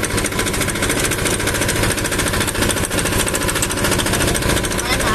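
A used Japanese diesel dumper cart with a 500 kg load capacity runs nearby, its engine clattering loudly in a rapid, steady knock throughout.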